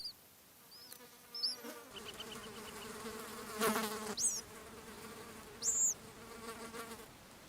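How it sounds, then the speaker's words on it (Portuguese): Flies buzz insistently around small wild bird chicks in their habitat, several close passes swelling loud then fading, with faint high chirps scattered over a steady outdoor background. "as moscas são incansáveis nos seus propósitos"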